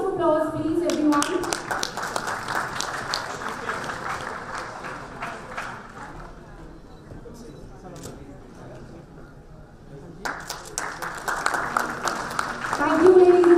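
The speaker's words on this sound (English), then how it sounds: "A huge round of applause, please, everyone." An audience claps at the Pharma Ratan 2018 award ceremony as a recipient is called up, with dense applause that thins to a quieter murmur midway and then returns strongly.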